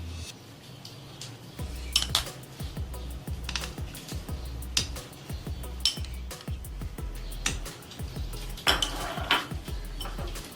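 A spoon scrapes and clinks against a dish while spreading topping along the edges of mango custard, intermittent metallic taps and scrapes at close range with no talking.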